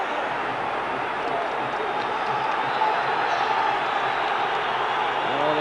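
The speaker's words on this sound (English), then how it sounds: "the crowd getting behind Rangers here" Steady roar of a large football stadium crowd cheering on Rangers during a 1992-93 Champions League match against Olympique de Marseille, a broad distant wash of voices with a commentator talking over it.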